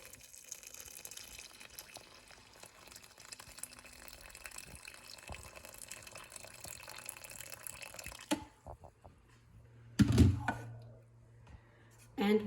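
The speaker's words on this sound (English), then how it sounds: "Now finally, we're adding 375 milliliters of boiling water." Boiling water is poured into gluten-free, grain-free bread roll dough: quiet kitchen rustling and clinks, then a short, close burst of splashing liquid near the end.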